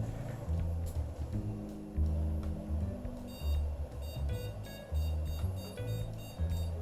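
Short electronic beeps sound repeatedly in uneven bursts over a low, fluctuating background hum.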